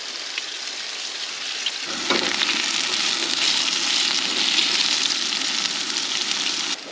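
Food fries in oil in a pan at a riverside van camp, giving a steady close hiss that swells louder as more oil goes in and keeps crackling alone.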